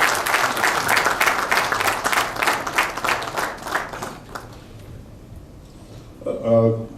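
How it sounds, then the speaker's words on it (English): Audience applause honours Mr. Reginaldo Lourenco at an industry association's annual general function in Goa. A dense, loud round of clapping fades out over several seconds, and a voice is heard at the end. "Can you give Mr. Reginaldo Lourenco a big round of applause?"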